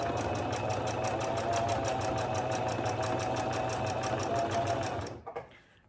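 Sewing machine driven by a foot pedal stitching fabric in a fast, even mechanical rhythm, close and continuous before stopping abruptly.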